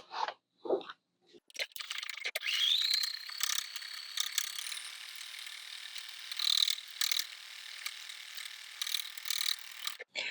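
A domestic sewing machine stitches quilting on fabric in short bursts, with a steady mechanical whirring run for several seconds and brief stops and starts at either end.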